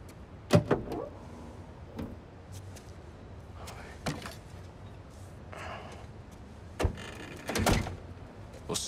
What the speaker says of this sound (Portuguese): Pega e abre o porta-malas.